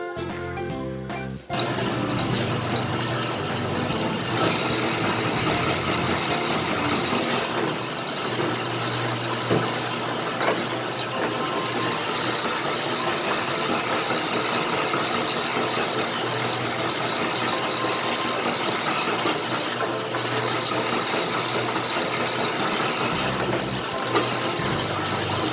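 An electric dough machine works Bavarian donut dough in a bakery, giving a steady loud motor hum and churning rumble that runs unbroken for about twenty-five seconds after a short clattering start.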